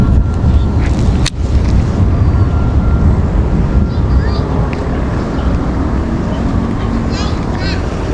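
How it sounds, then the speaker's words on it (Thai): Strong wind buffeting the microphone beside a canal while street-lure fishing, a loud continuous low roar with a sharp gust thump early on. "โอ้ลมมันพัดอะ"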